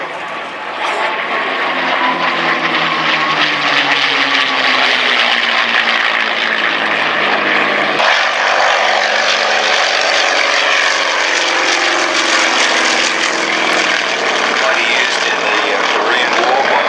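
Propeller-driven vintage aircraft passing at an airshow, a loud continuous engine drone with a sweeping pitch change as it flies by, overlaid with distant commentary over a public address.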